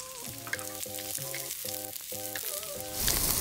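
Garlic and onion frying in a little oil in a wok that earlier cooked an omelette: a steady, close sizzle running throughout under a sustained tonal hum, surging louder near the end.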